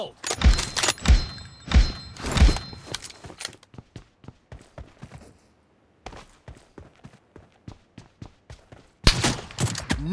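Repeated M24 bolt-action rifle shots and sharp impacts in a mobile shooter game team deathmatch, loud close bursts with quieter footsteps and thuds between them, a short near-silent gap, then more firing.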